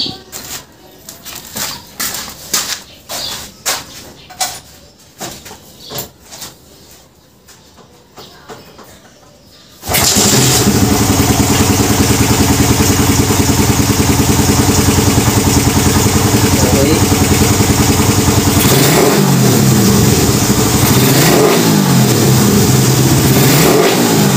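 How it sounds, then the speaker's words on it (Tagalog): A Honda Raider 150 motorcycle fitted with an alloy manifold sits quietly with faint handling sounds, then its engine bursts into loud, sustained high revving that holds steady, close by, with a few dips in throttle near the end. "papaandarin ko na yung aking motor. Tapos bibiriting ko"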